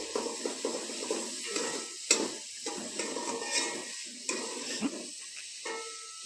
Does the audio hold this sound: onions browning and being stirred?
yes